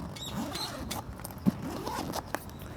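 A zipper being drawn open on a Polaris C1 soft cooler, a quiet scratchy run of small ticks with a couple of sharper catches, close and faint.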